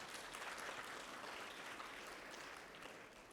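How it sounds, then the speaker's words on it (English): A conference audience in a hall at the University of Louisiana Monroe applauds steadily, a faint, distant wash of clapping that fades slightly toward the end. "Let's give St. Frederick High School another applause"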